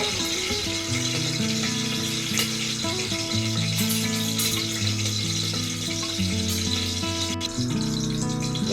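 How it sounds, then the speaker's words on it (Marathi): Curry leaves sizzle in hot oil for a tempering inside a pressure cooker while making a matki recipe, a soft continuous frying hiss sitting under louder background music. "आपण या फोडणीमध्ये पहिला कढीपत्ता टाकणार आहोत।"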